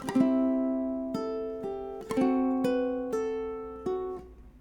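Bright plucked ukulele chords strummed in a short rhythmic bar of 'Aloha 'Oe', several hits ringing out clearly and alone, moderately soft.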